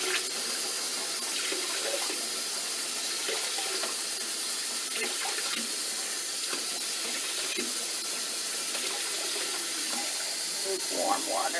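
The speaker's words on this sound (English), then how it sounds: "I'm going to put not hot water." Lukewarm tap water runs steadily into a bowl of flour dough in a kitchen, a continuous close splashing hiss lasting throughout with small gurgles and a brief louder spurt near the end.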